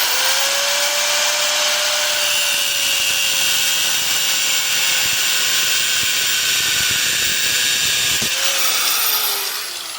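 A cutoff tool grinds through a metal J-bolt during maintenance on a bullnose Ford F150, a loud continuous high whine with a steady tone that dips briefly before winding down at the end.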